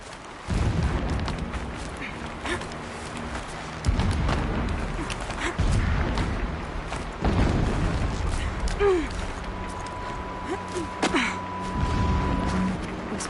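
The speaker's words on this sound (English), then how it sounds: "Explosions in the distance." Deep, muffled booms of distant explosions roll through the game world of Horizon Zero Dawn. Four or five heavy blasts land a few seconds apart over a low rumbling background, with faint game tones drifting in near the end.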